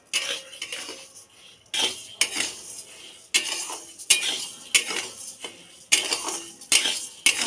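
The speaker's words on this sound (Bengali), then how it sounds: "এই চালটাকে ভাজবো ঘিটা দিয়ে, এর গন্ধটা খুব সুন্দর হবে।" Rice fried in ghee and stirred in a pan, heard as repeated scraping clinks of a utensil against the pan in irregular bursts, close and fairly loud, with no talking.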